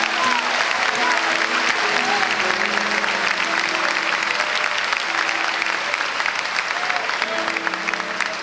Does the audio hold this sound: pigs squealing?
no